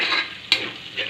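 Onions and small onions sizzle in a pan of ghee for a chicken kulambu, a steady close frying hiss with one sharp scrape of a spoon stirring midway.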